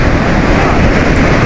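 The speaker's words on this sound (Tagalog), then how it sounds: "sobrang lalaki ng alon at wala talagang mga kalaot" Large ocean waves roar in a steady, dense wash, heard from out on the water with heavy wind buffeting, loud and close with no talk.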